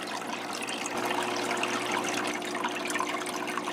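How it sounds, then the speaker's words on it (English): Water trickles and splashes steadily during a water change on a gourami aquarium, a continuous close wash of running water with a faint electrical hum beneath and no talking. "Let me get the water change done"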